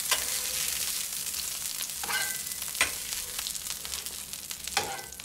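Two quarter-pounder burgers sizzle on a contact grill, giving a loud, constant close-up hiss broken by a few sharp crackles and pops.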